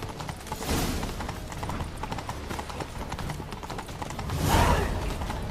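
Horse hooves clip-clop in a steady, quick rhythm as a horse is ridden in The Witcher 3, over a continuous game ambience, with a brief louder swell near the end.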